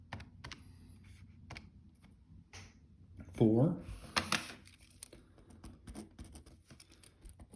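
Keys tapped on a computer keyboard while entering algebra expressions, light irregular clicks in short bursts, close and fairly quiet, with a brief spoken phrase in the middle.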